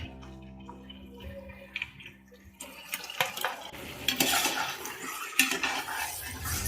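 A kilogram of chicken being added to hot oil in a pot for biryani and stirred, giving clattering spoon scrapes and a rising sizzle after a quieter start, with no talk.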